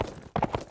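Horse hooves clip-clopping in the Mount and Blade Warband video game, a short burst of a few quick, moderately loud hoof strikes over low game ambience.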